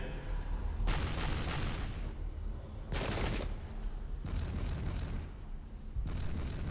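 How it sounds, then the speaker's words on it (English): Artillery fire in the Pike and Shot strategy game during an American Revolutionary War battle at Bemis Heights, a rolling series of dull booms and crackling volleys in repeated bursts, fairly loud and continuous, with no talking. "And now the artillery at Bemis Heights is really doing its work."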